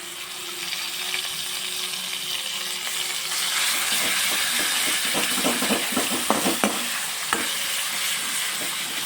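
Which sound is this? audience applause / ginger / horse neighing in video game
ginger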